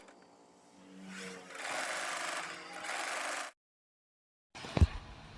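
A sewing machine stitches along the sleeve edge of a dress with an elastic waist and puffed sleeves, a steady mechanical whir in two runs, then a pause and a brief clunk of handling.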